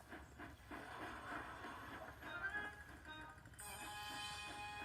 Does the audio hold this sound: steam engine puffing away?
yes